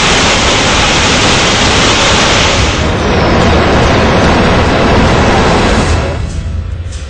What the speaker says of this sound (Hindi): ओंकारेश्वर बांध का पानी गुजरात की तरफ छोड़ा जा